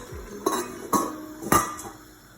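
Metal lid set back onto a cooking pot of goat meat light soup, a few sharp clanks and clinks in quick succession, close and fairly loud.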